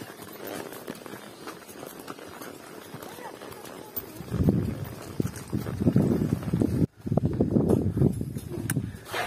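Hooves clop unevenly as horses walk at the end of a group horseback ride in the countryside, partly masked by heavy wind rumbling over the microphone in the second half.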